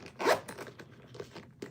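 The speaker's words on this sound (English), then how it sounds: "The nice thing about these boots is they have zippers" A zipper on boots decorated with beads is drawn in one quick, close rasp, followed by a few shorter tugs and soft scrapes in a quiet room.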